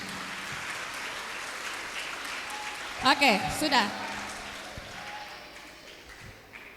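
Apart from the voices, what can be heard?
audience applause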